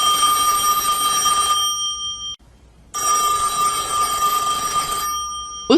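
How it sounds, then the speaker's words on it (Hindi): A phone rings with a bright electronic ringtone, two loud bursts separated by a short silent gap, close and clear with nothing else underneath. "उसके फोन की घंटी बज रही थी"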